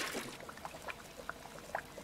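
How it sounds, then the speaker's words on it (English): Water poured in small splashes and trickles while brewing in the game Brewmaster, faint and intermittent, with several short liquid blips over about two seconds. "Pour a bit in."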